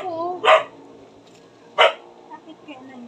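A small white dog barks in two sharp, separate bursts in a home setting, with quieter background noise between the barks.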